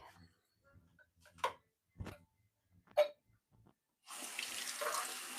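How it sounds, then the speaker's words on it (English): Tap water runs steadily into a container at a sink, a continuous close hiss after a few soft clinks and knocks, in a quiet room. "You can probably hear me getting more water."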